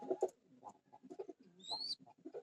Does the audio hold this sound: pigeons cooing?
yes